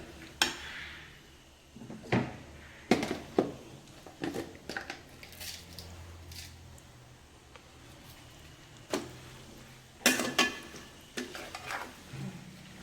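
Raw banana podimas tossed with salt in a pan, scattered scraping and knocking spatula strokes in uneven bursts with quiet gaps between, nearby and unaccompanied.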